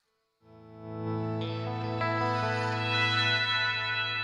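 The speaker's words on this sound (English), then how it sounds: "There you go. That's a shimmer," A Headrush Prime guitar effects unit running a shimmer preset: a sustained guitar chord swells into a bright, layered wash with high octave-shifted harmonics blooming above it, steady and loud for several seconds with no talking.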